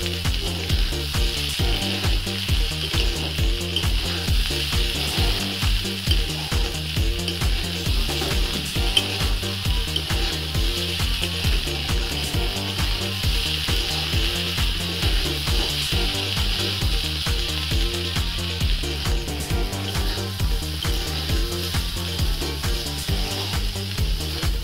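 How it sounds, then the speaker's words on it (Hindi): Rice and vegetables for a vegetable pulao roast on a medium flame in a pot, giving a dense, continuous hiss and crackle with a steady scraping, stirring rhythm underneath that runs without a break and without speech. "चावल को मीडियम फ्लेम पर 4 से 5 मिनट तक ऐसे ही भुनेंगे"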